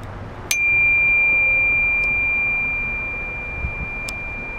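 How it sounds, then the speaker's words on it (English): A small bicycle bell rings with a single bright ding that rings on for a few seconds and fades slowly, followed by a fainter tap near the end. "Got a little bell."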